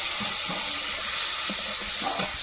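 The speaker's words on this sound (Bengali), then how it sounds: "মাছ ভাজা হয়ে গেছে এবার মাছের মাথাগুলো ভাজবে" Fish heads frying in a pan in a home kitchen, a steady soft sizzle running throughout at moderate level, with faint clinks and stirring bumps now and then, no speech.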